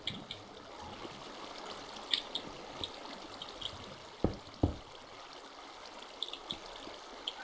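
River water in Minecraft flows as a soft, steady babbling stream, with a few louder clicks and knocks popping out over the constant trickle.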